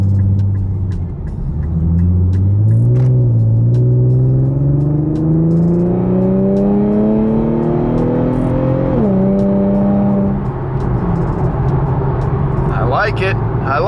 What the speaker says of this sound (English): I'm gonna roll onto the interstate here again one more time. Just get it up to speed, accelerate a little bit harder, see how it feels.